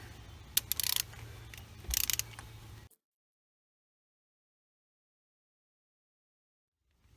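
A ratchet cranks a fan switch sensor back into a Fiero 2.8L engine, giving two short bursts of close clicking over a mechanical hum, then falling silent.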